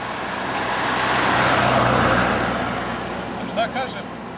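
A car passes on the road between Novi Beograd and Avala, its hiss swelling to a peak and fading away. A brief voice is heard near the end.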